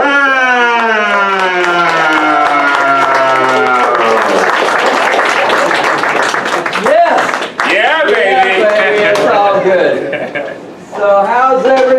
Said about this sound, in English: you guys please stand on your feet and give a round of applause for Mr. Lou Brown.